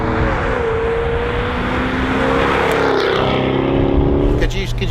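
A Jaguar F-Type 5.0 V8 cruises at about 50 mph with a steady, loud engine drone and road roar. A voice speaks over the engine, and the tone shifts slightly toward the end.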